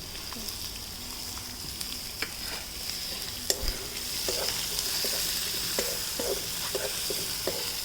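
Chopped onion sizzles in hot oil with asafoetida, a steady close hiss broken by light scraping taps of a spoon stirring the pan for several seconds.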